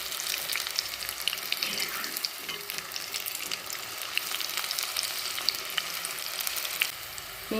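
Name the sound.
taro stems frying in hot oil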